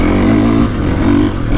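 KTM 450 SXF Factory Edition motocross bike's engine revving hard and steadily close by on a slippery dusty track, with a brief dip in pitch midway before it climbs again; no talk.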